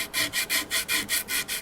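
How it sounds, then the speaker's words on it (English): Sandpaper works the wood of a Crosley 718-B radio cabinet in about nine quick, even back-and-forth strokes, rasping loudly and close up. "I'm moving here to the bottom and do a little sanding here as well."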